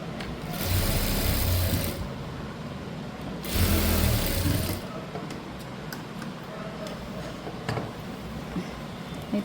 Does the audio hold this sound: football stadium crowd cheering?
no